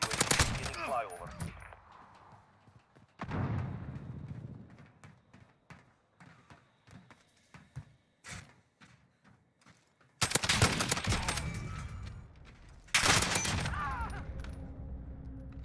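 FN-SCAR fire in a first-person shooter game, several loud bursts of rapid automatic shots separated by quieter stretches of scattered game noise.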